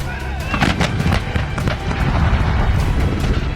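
Boom of an M777 ultra-light 155 mm howitzer firing a shell, heavy low rumble and repeated blasts continuing under a voice speaking over it throughout.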